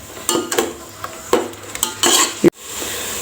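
A spoon stirring split moong dal frying in oil in a pan while making dry pongal, with several distinct scraping and clinking strokes over a soft sizzle and no talking.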